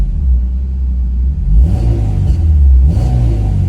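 A Honda S2000 engine rumbles low, then builds twice as the exhaust deepens and swells with acceleration, close and loud with no talking.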